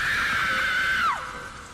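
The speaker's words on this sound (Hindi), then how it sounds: "तभी उसके घर से उसको रूही के चीखने की आवाज सुनाई देती है" A long, high scream sound effect in a horror story holds steady, then bends sharply downward and fades, loud and alone over a low background rumble.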